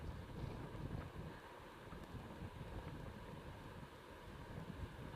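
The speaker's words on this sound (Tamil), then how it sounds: "எப்படி காற்று அடிக்குது பாருங்கள்" Strong wind roars steadily into the microphone during a storm, a dense low buffeting rumble with gusts that swell and ease throughout, no voices.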